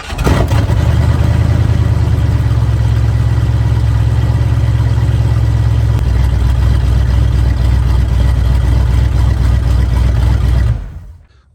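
Carbureted engine of an old bus, sitting unused for over ten years and running without a catalytic converter, roaring loud and steady with a deep rumble for about ten seconds before cutting off abruptly.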